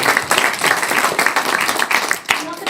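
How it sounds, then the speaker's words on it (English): A lecture audience gives a round of applause, a dense, steady wash of many hands clapping at close range that fades slightly near the end. "Let's give ourselves a round of applause"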